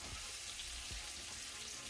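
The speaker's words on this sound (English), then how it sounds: "you can hear that sizzling going on. That's the chicken" Steady, hissing sizzle of garlic butter and herb chicken frying in a pan, close and continuous with faint crackles.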